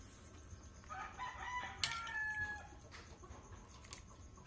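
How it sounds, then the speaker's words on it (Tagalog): A rooster crows once, a faint, distant call rising and trailing off, with a few soft clucks around it in an otherwise quiet outdoor setting. "Ay, ang tilaok."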